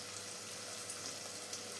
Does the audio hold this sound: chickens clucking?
no